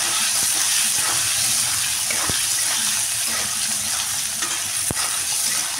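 Spices frying in a pan without oil, a steady close sizzle and hiss with occasional light stirring scrapes and taps.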